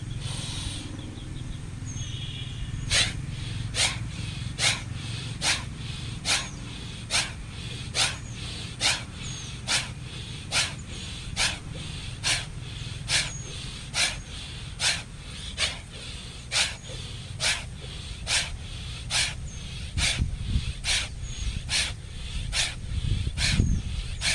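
During a yoga breathing exercise, forceful nasal exhalations puff out in a steady, rapid rhythm at close range, about one each second.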